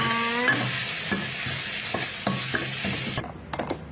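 Chili and garlic stir-fried in a hot pan, a busy crackling sizzle with regular scraping strokes of the utensil, close by, ending abruptly toward the end.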